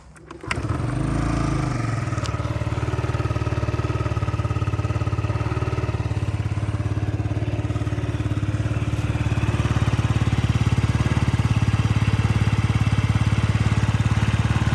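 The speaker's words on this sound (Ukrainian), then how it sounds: "Так, заведемо, послухаємо." A fuel-injected Yamaha Jog SA36 scooter from Japan cranks and catches, then idles steadily with an even mid-pitched buzz, close by and without interruption.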